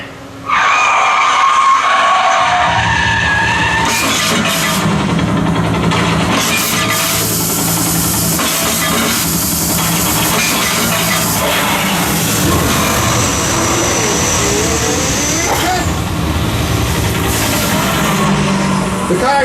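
Stunt cars in a live theme-park stunt show rev and skid, a loud sustained engine roar with tire squeals and rumbling that surge and shift for nearly twenty seconds after a brief quiet start.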